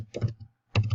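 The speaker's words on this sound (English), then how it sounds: "let's say we type in here" Bursts of clicky keystrokes on a computer keyboard, typed in two quick flurries separated by a short pause, close and fairly loud with no talking.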